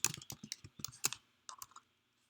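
Brief bursts of keystrokes on a computer keyboard, close and fairly loud, tapping in quick irregular runs with a short pause before a final flurry and then silence.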